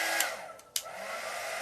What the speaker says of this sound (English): So option 2, you get a heat gun.